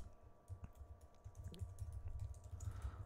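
Keys clatter in quick, uneven bursts as someone types a message on a computer keyboard while writing PHP code, close and fairly quiet with no talking.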